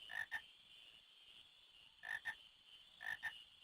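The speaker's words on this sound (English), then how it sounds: "Aha! Frogs!" Frogs croak in the video game Final Fantasy IX, three evenly spaced pairs of sharp, close croaks set against a steady high ambient hum.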